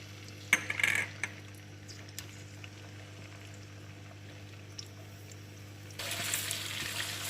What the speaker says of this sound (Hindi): अब इसको हम तकरीबन जो है ना 1 मिनट जो है ना इसको सोटे करेंगे